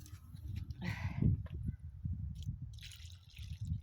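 Water is poured onto a newly planted Blue Angel White Pine tree in cold, damp outdoor conditions, giving a short splashing gush followed by scattered drips and trickling close by.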